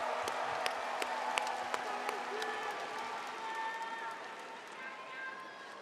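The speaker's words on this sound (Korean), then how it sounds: "다시 한번 큰 박수 부탁드립니다." Party delegates at a Democratic Party convention clap and cheer in a large hall, a dense steady wash of applause that gradually fades, with occasional voices and whistles above it.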